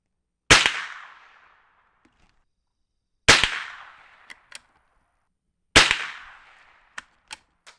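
Three sharp, loud outdoor rifle cracks from a Savage 120A fired at a squirrel, spaced a few seconds apart, each trailing off in a short echo and followed by faint clicks of working the bolt.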